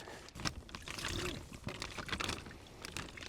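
Water sloshes and pours as catfish are released into a homemade pond, a continuous splashing and trickling nearby with a faint voice in the background.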